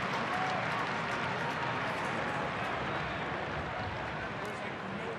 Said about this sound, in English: this crowd is really trying to get back into the game